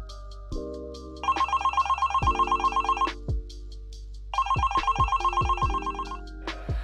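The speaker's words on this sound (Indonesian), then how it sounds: "kita bakal telepon sekarang juga" Telephone ringback while dialing a guest on a music podcast: two long bursts of repeated ringing tones, clear and fairly loud, separated by a short pause, with low hum underneath and no talk.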